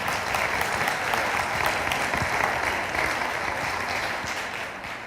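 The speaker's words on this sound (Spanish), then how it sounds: "Le damos un fuerte aplauso al Padre Aurelio." Sustained applause from an audience at a lecture on an educational pact for the nation, dense and steady for the whole stretch, welcoming a priest to the podium.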